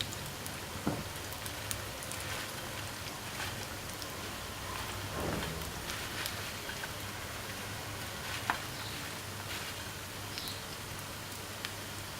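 Potato finger chips fry in hot oil with a steady, faint crackling hiss that runs throughout, marked by a few sharper pops.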